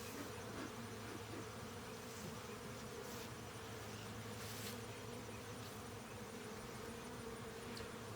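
Honey bees buzz steadily in a dense, continuous drone at an opened hive while the beekeeper pulls frames, the swarm close and loud throughout without pause.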